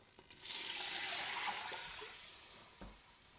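Chicken stock pours steadily into a pot with a soft rushing splash, swelling then tapering off, followed by a faint clunk.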